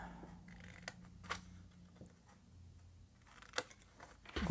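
Scissors snip around the flat edge of paper while an Advent calendar mailbox is crafted, giving a few quiet, separate crisp cuts with pauses between them and a louder clack at the end.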